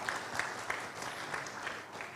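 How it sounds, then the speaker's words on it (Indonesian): Audience applause at an Indonesian public event honoring the PUPR public works ministry: steady, dense clapping from a crowd, even and sustained throughout with a few sharper claps standing out. "Tepuk tangan sekali lagi untuk PUPR"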